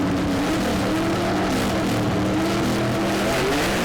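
A gasser drag race car from a Southeast Gassers drag race event at Shady Side roars steadily and loudly throughout, a thick droning engine note with no talking over it.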